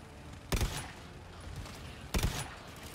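A sentry gun fires in GTFO in two short, sharp bursts about one and a half seconds apart, each a quick cluster of cracking shots, over a quiet background.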